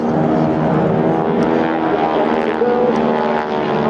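A propeller aircraft flies a roller coaster manoeuvre at the 2014 Clacton-on-Sea air show in Essex, its engine a loud, steady drone that fills the whole stretch without a break.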